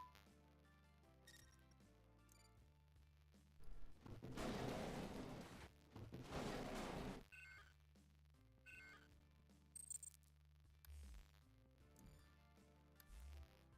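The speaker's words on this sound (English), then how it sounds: "Explosion, that's the sound to play when you hit the freaking thing." Explosion effects preview in a game engine: two loud, noisy bursts with rumbling tails follow each other in the middle, surrounded by quiet tonal sounds and soft clicks.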